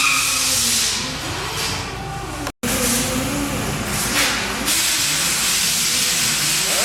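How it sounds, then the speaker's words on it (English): Welding on a car build produces a loud, steady crackling hiss close by that runs continuously, breaks off for an instant, then resumes at the same level. "we're ready to weld"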